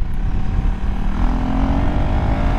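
2024 KTM 390 Duke single-cylinder motorcycle engine droning loud and close at steady speed, with heavy low rumble and a rising tone partway through.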